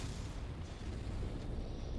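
A mech's reactor explodes in the video game Mechwarrior 5, producing a heavy, rumbling blast that sustains as a dense low roar throughout, loud and close with no talk.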